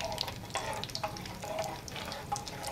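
Seeds sputter and crackle in hot oil during tempering for an amla pickle, a steady close sizzle dotted with sharp pops at irregular intervals.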